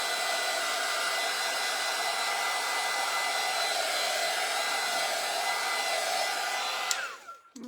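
Hair dryer blowing steadily on small wood pieces laid on a craft cutting board. The dryer runs as a loud, constant whoosh close by, then switches off near the end, with no talking.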